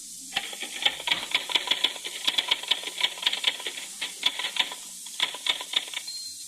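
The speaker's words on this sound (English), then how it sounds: "in this particular case, it's a typewriter" Rapid, uneven clacking of typewriter keys, a dense run of sharp strikes with brief pauses, heard alone over a faint hiss.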